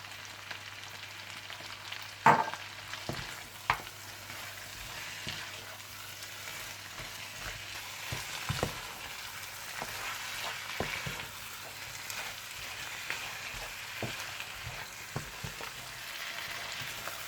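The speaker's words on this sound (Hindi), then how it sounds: "जब चाप्स मसाले में अच्छी तरह से मिक्स हो जाएं और भुन जाएं" Mutton chops sizzle steadily in karahi masala spices, a close continuous frying hiss broken by occasional clinks and scrapes of stirring, with no talking.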